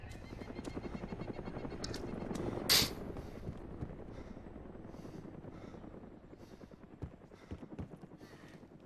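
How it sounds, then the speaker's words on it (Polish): A helicopter in the Arma 2 DayZ video game flies close overhead, its steady, loud rotor chop filling the whole stretch, with one brief sharper burst midway. "Ale helikopter blisko leci."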